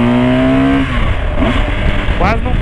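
BMW R1200 motorcycle filtering between cars in a traffic corridor, its engine a steady rumbling drone with a brief rising rev toward the end, heard close amid road noise and someone talking over it.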